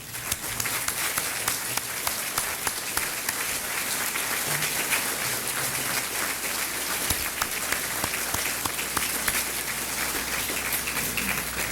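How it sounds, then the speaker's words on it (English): Sustained, dense applause from a large audience at a political dinner, steady clapping filling the room for the whole stretch at an even level. "let's give them a round of applause"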